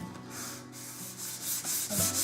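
Steady, quiet rubbing of a sanding sponge against the wooden body of a cheap electric guitar, a soft rasping scrub repeated back and forth.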